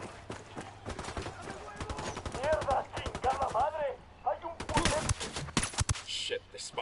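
Gunfire in the video game Ghost Recon Wildlands: rapid bursts of sharp shots and clattering rounds, with some fast strings of fire, mixed with voices talking over the shooting.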